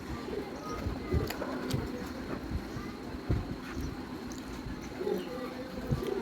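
Pigeons coo softly and repeatedly in a domestic setting on a rainy morning, low murmuring calls recurring over steady background noise, with faint chirps and a few brief knocks.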